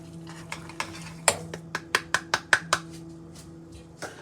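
Cooked sticky rice being stirred with sugar, a run of about ten sharp, close utensil taps and scrapes against the pot, quickening in the middle, over a faint steady hum.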